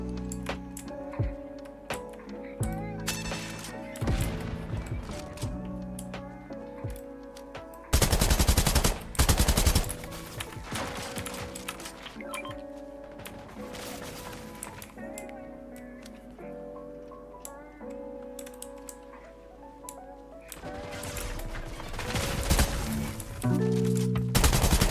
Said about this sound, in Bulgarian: трябва да стрелям, да си изразходя патроните